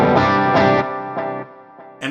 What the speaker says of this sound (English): this digital delay here in the software is like it being used in the effects loop